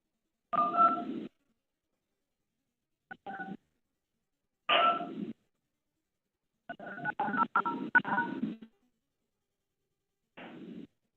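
A run of telephone keypad tones entering a meeting ID, short beeps in uneven bursts separated by silences, some single and some in quick clusters, close and clear.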